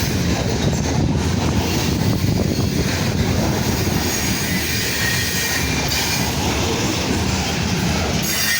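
A freight train of porchless grain hopper cars rolls past nearby, a loud continuous rumble of wheels and rattling cars with brief squeals, steady from start to finish.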